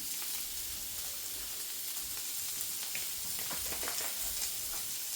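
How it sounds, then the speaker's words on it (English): Steady, soft sizzle of butter frying in a pan, a continuous crackling hiss with faint pops, no voices. "Just going to add a bit of butter into this frying pan."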